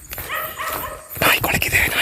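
A dog barks and yips outdoors near a reputedly haunted bungalow at night, a few short sharp calls mixed with whimpering, heard under a man's close, anxious talking.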